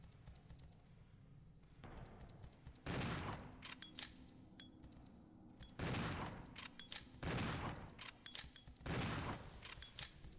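Gunfire aimed at roaches in the video game Resident Evil Zero: several loud bursts of rapid shots about every three seconds, with sharp metallic clicks and impacts between volleys.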